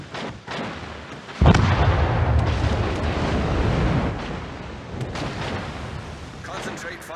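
Heavy ship guns boom in World of Warships, with a loud blast near the start and rolling, continuous naval gunfire rumbling throughout, punctuated by scattered sharper reports.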